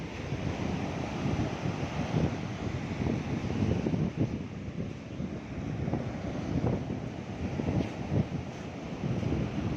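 Waves wash and break continuously near the shore, a rough rolling roar with gusty wind buffeting the microphone throughout.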